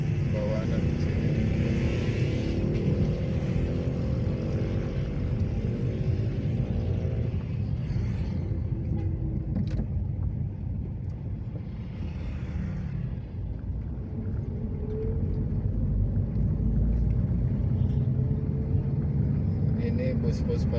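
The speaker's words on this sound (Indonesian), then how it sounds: "Ini bus-bus Pajaya yang melayani trayek Tulang Bawang Bandar Lampung." A Pajaya intercity bus on the Tulang Bawang–Bandar Lampung route runs along the Trans-Sumatra eastern highway, its engine and tyres producing a loud, continuous low rumble that dips briefly midway and then swells again.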